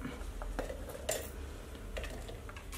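Chopped ingredients for chicken rice are tipped and scraped from a utensil into a mixer-grinder jar, giving light metallic clinks and taps at intervals, fairly close and moderately quiet with no talking.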